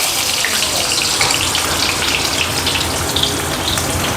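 Chopped onion hits hot oil already crackling with mustard seeds and cumin, setting off a loud, dense, continuous sizzle that stays even and close throughout.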